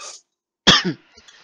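Someone coughs once, sharp and close, in a short burst with a throaty rasp, after a soft breathy sound and before faint background noise.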